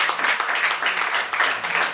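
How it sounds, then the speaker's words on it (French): A studio audience applauds a guest singer, steady full clapping with slight swells, loud and close throughout. "Applaudissements encore pour elle"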